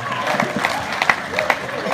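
Audience at a stand-up comedy show clapping and cheering, a dense steady wash of applause with scattered louder claps and shouts throughout.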